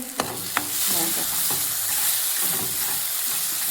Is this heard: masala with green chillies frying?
yes